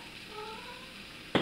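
A cat gives a short, faint meow with a soft purring undertone, heard close in a quiet room, ending with a brief sharp noise.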